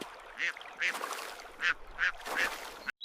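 Ducks swimming on water on a farm in a children's animation, quacking in about half a dozen distinct calls spaced through the moment, fairly close and clear.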